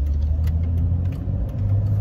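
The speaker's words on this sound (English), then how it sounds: "We're gonna take you for a little test drive here around my town here." Steady low engine rumble from a Jeep Cherokee XJ during a town test drive, heard from inside the vehicle with a constant drone and faint road noise and no talk.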